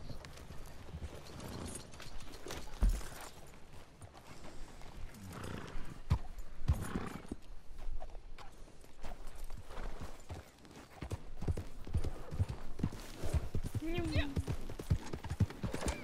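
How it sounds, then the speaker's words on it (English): Horse hooves clip-clop steadily in Red Dead Redemption 2, with a whinny near the end, under ongoing talk. "My horse took off in the other direction."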